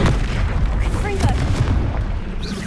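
Confringo explosive spell blasts in Hogwarts Legacy, a dense booming burst with crackling debris, loud and close, continuing over a busy rumbling game background with a faint voice.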